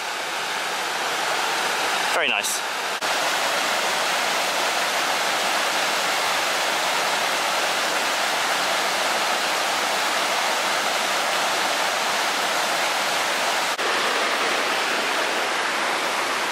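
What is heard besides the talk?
waterfall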